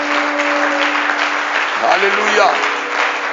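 A church congregation applauding and cheering in worship, a dense continuous wash of clapping with voices calling out over it and a sustained tone underneath.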